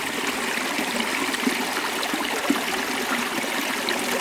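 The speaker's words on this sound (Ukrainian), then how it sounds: "Водичка жужжить." A mountain stream runs over rapids in the high Carpathians among spruce trees, a steady, full rushing of water without a break, close and fairly loud.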